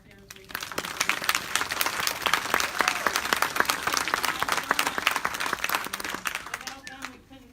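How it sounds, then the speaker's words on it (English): An audience applauds volunteers at a Fibromyalgia Awareness Day event in Michigan, with dense, steady clapping from a crowd that swells quickly, holds for several seconds and then tapers off near the end. "So if everybody could give me a round of applause for all of our awesome volunteers we have."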